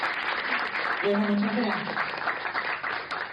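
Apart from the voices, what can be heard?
audience applause for a guest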